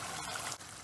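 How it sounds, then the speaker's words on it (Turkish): Water pours steadily into a cooking pot of stew with meat, a soft continuous splashing stream lasting under a second with a brief dip near the end. "Toplamda 4 su bardağı su verdim."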